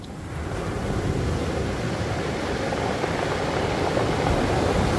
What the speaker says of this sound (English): Let's listen for the boulders tumbling